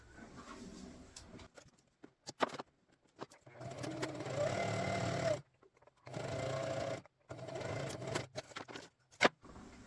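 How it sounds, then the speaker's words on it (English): A sewing machine stitching a belt loop on a LARP belt pouch runs in three short bursts of close mechanical whirring, separated by pauses with small handling clicks and taps. "We are going to stitch right along this line that we've already stitched"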